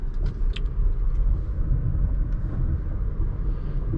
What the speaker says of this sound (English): let's get this car out on the road here